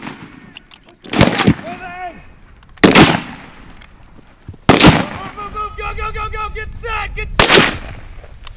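Four sharp, loud gunshot blasts ring out at uneven intervals during a live-fire WWII squad tactics drill, separated by shouted voices of men calling to each other.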